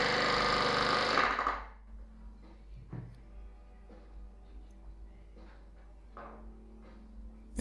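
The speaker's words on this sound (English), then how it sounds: "now I can reach in every time and buck the rivet" Rivet gun bucking rivets on the aft top fuselage skin of a Van's RV-7 kit aircraft: a loud, rapid burst of hammering up close for about a second and a half, then quiet with a few faint knocks and handling clicks.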